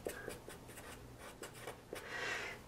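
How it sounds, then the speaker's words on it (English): A pen writes a name and order number on paper beside a foot tracing, giving soft close scratching strokes in short rhythmic bursts over a steady low background hiss. "Finally, write your name so we know who you are, and your order number."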